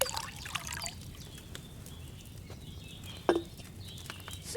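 Wine trickles faintly from a pitcher into a cauldron in Kingdom Come Deliverance II, a quiet liquid pour over low ambient hum, followed by a soft clink of vessels.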